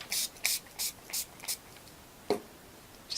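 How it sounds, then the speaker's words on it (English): A spray bottle of liquid color is pumped onto paper in quick bursts, five short hissing sprays in a row, then a pause and one more, close and fairly quiet. "I'm going to spray it some more and just really let those colors run"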